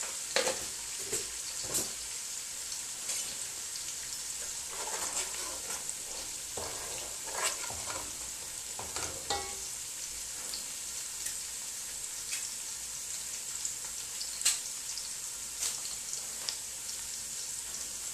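Ingredients for a fish stew fry in a pot with a little salt, a faint continuous sizzle marked by irregular crackles and occasional utensil taps, fairly quiet throughout.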